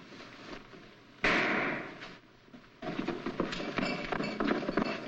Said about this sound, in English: What was that shot?